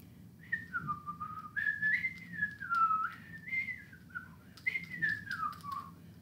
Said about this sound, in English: All right. I will whistle.